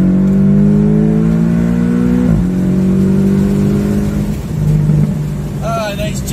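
A 2019 Porsche Boxster engine accelerates gently from inside the cabin, its rising drone briefly dropping at a gear change before climbing again. People talk over the engine.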